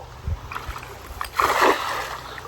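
Cast net landing in a creek, a few light knocks and then a brief rushing splash and slosh of water, close by with no talking.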